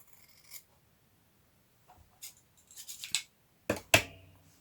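Several short, crisp snips of scissors cutting through a fabric cover for a junk folio, scattered bursts separated by pauses, quiet and close with no talking.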